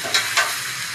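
Chopped bottle gourd (lau) fries in a wok in a home kitchen, a steady close sizzle with two brief bursts of louder hiss from stirring.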